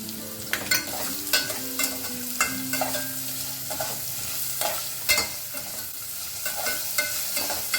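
Carrots and mixed vegetables sautéing in a pan for pulao, with a steady close sizzle and a rhythmic scrape and clack of a spoon stirring about every half second.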